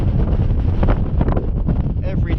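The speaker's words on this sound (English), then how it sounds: "It's so windy." Strong wind buffets the microphone on the exposed slopes of Cruach Mhor, a Scottish hill, a loud continuous roar with gusting rumble and a brief voice near the end.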